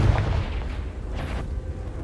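A Confringo fire spell detonates in Hogwarts Legacy, a deep booming blast with a rumbling low-end tail that fades over about two seconds, heard alone without talk.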